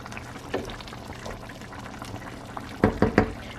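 Kerala-style chicken curry simmers in a pot, a low steady bubbling broken by a quick cluster of louder pops and blurps close by.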